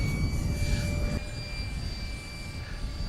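A 70mm EDF radio-controlled model of the XB-70 Valkyrie jet flies past outdoors, a steady high ducted-fan whine with a faint tonal edge that dips slightly midway as the plane passes at moderate distance.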